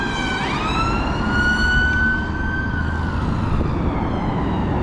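A loud ambulance siren wails close by, its pitch sweeping up then holding a long rising-and-falling tone over heavy road noise.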